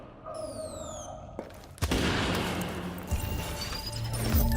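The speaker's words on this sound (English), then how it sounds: "That would be the explosion you just heard." A turret detonates in The Division video game, a sharp blast near two seconds that gives way to loud, sustained rumbling debris and crackle, preceded by quieter game sounds and falling electronic tones.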